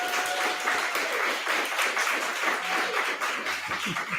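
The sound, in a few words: applause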